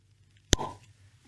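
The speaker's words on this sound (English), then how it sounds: "Much better cork pop on the Madeira finish." A cork pops out of a Lochranza whisky bottle with a Madeira finish, one sharp close plop followed by a brief airy ring, in an otherwise quiet room.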